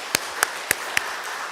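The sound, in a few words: congregation clapping in church service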